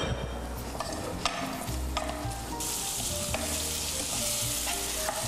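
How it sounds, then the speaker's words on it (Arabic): Chicken pieces frying with onion, coriander and parsley in a pan, a loud continuous sizzle close by with the scrape and clatter of stirring now and then, no voices over it. "وحنقلي معاه قطع الدجاج في نفس الوقت"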